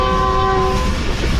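A Subak Raftar railcar train rolls downhill through hilly country, its sustained multi-tone horn sounding loudly for about a second over the heavy rumble of the moving train.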